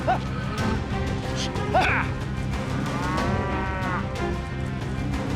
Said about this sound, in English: There's a cow running loose out here.